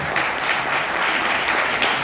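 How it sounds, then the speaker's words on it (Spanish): A church congregation applauds during a sermon, with brisk, dense clapping from many people sounding close and continuous for a short burst. "Denle un aplauso al Señor, de verdad."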